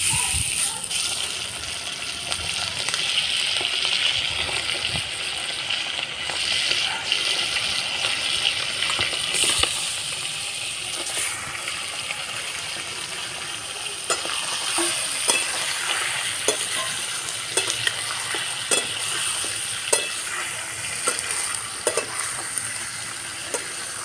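Chicken pieces frying and being stirred in a hot pan for a dhaba-style chicken masala, a steady close sizzle with scraping stir strokes and small clatters running throughout.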